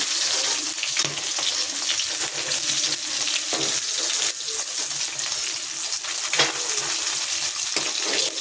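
Fish fries in hot oil in a pan with a loud, dense, continuous sizzle. Occasional scrapes and shifts break through as the pieces are moved.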